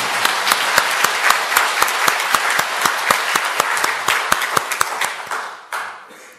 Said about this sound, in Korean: 우리 한번 크게 한번 격려의 박수 한번 보내드릴까요?